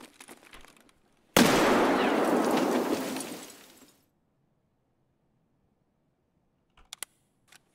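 A grenade blasts in the shooter game Escape From Tarkov: one sudden loud burst that decays into a long crackling roar over about two and a half seconds, followed by near silence and a few faint clicks.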